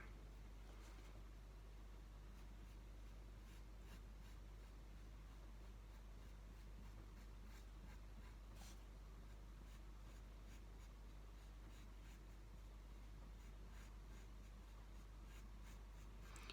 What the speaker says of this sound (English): Now I'm pressing really lightly with my pencil